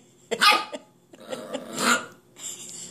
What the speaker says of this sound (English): Is that puppy barking at you?